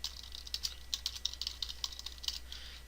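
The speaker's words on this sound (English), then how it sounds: "We will then type in a password," Quick, close clicks of keys as a password is typed on a computer keyboard, a short irregular burst of soft taps without voices.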